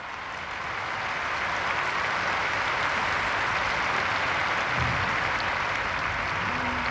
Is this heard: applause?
yes